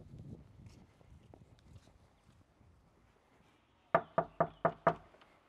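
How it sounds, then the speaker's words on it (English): Five sharp knocks on a house's front door, loud and evenly spaced, following a stretch of quiet outdoor footsteps. "Let's go knock on the door."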